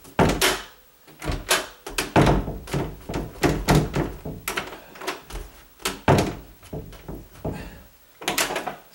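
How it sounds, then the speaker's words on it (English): A door that fails to latch being shut again and again, producing a steady series of loud wooden thunks and knocks, some doubled, spaced roughly half a second to a second apart with no talking over them. "Now every time I close the door,"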